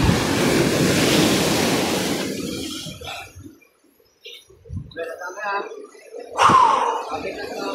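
Strong ocean surf crashes on a shore in Cavite, loud washing roar fading after a few seconds, then quieter breaking water with wind buffeting the microphone and people talking and gasping nearby.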